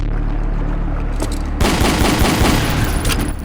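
Explosion in Ashes 2063, a loud close blast that swells abruptly over an already noisy rattling background and lingers as dense crackling rumble for the rest of the moment.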